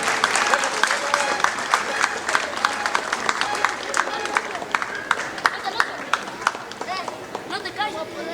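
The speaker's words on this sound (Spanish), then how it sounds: "Se escuchan los aplausos para este grupo de voladores del barrio Tlalnepantla." A festival crowd at the Huasteca festival in Huejutla de Reyes, Hidalgo, gives sustained, dense applause with sharp claps for a barrio Tlalnepantla voladores group, while a voice talks over it.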